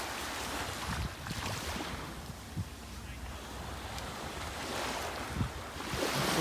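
Surf washing onto a Cayman Islands beach in the morning, a steady broadband wash of waves with light wind rumble on the microphone, swelling louder near the end.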